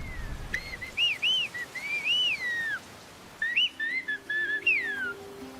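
A person whistles Chinantec speech in gliding, speech-like phrases, short rising and falling notes in two bursts separated by a pause, clear against a quiet background.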